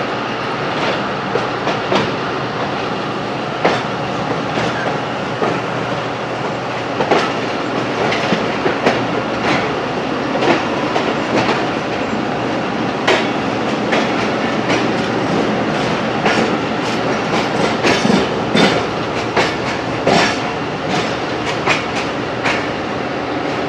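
Sialkot Express passenger train pulling out of a station in heavy rain on the Lahore to Sialkot line, with a steady loud rolling rumble and a dense clickety-clack of wheels over rail joints throughout, no voices.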